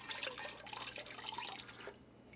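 Glaze poured over the rim of a wide-rim ceramic bowl, a steady close liquid splash and trickle lasting about two seconds before cutting off abruptly to quiet.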